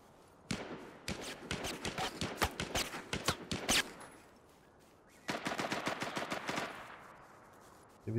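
Gunfire in the video game Last Man Standing: two long bursts of rapid automatic shots, sharp and close, the first running for about three seconds and the second after a short quiet gap, with a lone shot at the end.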